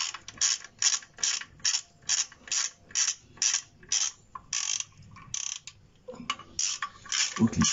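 Ratchet wrench hand-tightening clutch screws on a BJ46, a loud close run of rapid clicking strokes in bursts with brief pauses between pulls.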